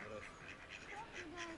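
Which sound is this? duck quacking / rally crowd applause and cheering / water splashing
duck quacking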